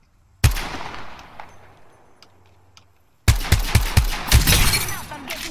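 Gunfire in a first-person shooter game: a sharp burst of shots, a quieter stretch with a few faint cracks, then a loud rapid volley of many close shots with rattling debris, with no talking.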